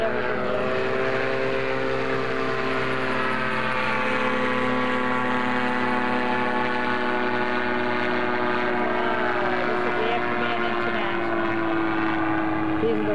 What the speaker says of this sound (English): There's a real helicopter.